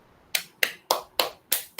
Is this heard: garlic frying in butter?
no